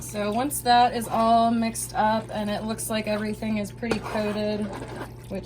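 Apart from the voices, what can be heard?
No everyday noise stands out behind the speech.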